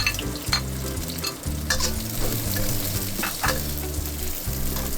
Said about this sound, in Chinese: 转大火加入姜蒜、干辣椒和洋葱